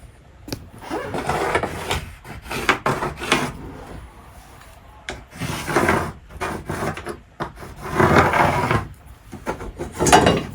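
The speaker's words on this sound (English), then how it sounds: "Just use a skill saw and get it cut out." A circular saw cuts through an OSB countertop during a mobile home remodel, coming in several loud, rough bursts separated by short pauses.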